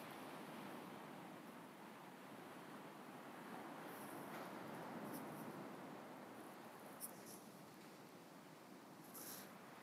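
Ocean surf at night in Shimoda, heard as a steady, faint wash of breaking waves from some distance, with a few light clicks near the end and no talking.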